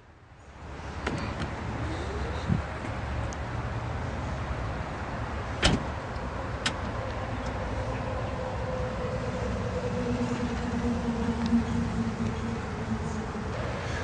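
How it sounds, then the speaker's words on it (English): Power liftgate on a 2019 Volvo XC90 closing, a steady electric motor whine held for several seconds with a couple of brief mechanical clicks, heard close with no talk. "The power liftgate closes with the push of a button."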